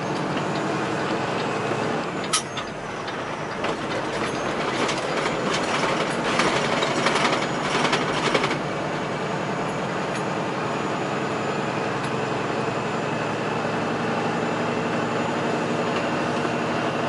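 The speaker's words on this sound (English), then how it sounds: "A lot of trains come through here." A freight train rolls past on nearby tracks, a loud sustained rumble with rhythmic wheel clatter and a few sharp clanks, steady from start to finish.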